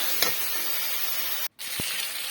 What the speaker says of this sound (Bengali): এটিকে ভালোভাবে আমি নেড়ে চেড়ে নিচ্ছি।